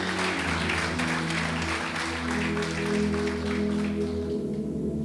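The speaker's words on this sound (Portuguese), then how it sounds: "aplauda bem forte o nome do Senhor Jesus" A church congregation applauds through a Sunday worship service, a steady wash of clapping spread over sustained keyboard or organ chords that hold underneath for the whole stretch.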